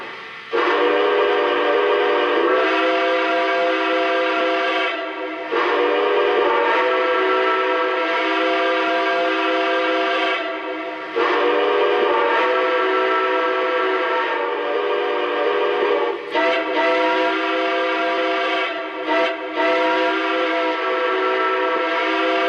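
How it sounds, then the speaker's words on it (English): A Lionel Nickel Plate Road #765 2-8-4 Berkshire model steam locomotive whistle sounds in repeated long, harmonic blasts of a few seconds each, separated by brief gaps, loud and close with no talking. "let's check out the whistle"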